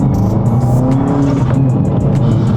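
A 2022 Subaru WRX is driven hard, its engine droning steadily and loudly from inside the car, with a faint sharp squeal near the start and no one talking.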